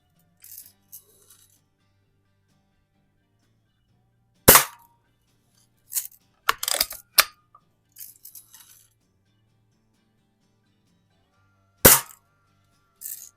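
Several sharp cracks from a Crosman Hunter Hank BB gun shot at a can, isolated pops spaced seconds apart with a quick cluster of rattling metallic hits in the middle, close and alone.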